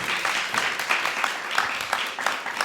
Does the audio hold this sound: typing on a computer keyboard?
no